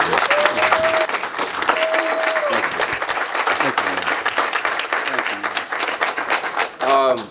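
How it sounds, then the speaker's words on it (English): A studio audience claps and applauds loudly and steadily throughout, with a speaker's voice carrying over the crowd noise. "y'all can give a hand clap for that."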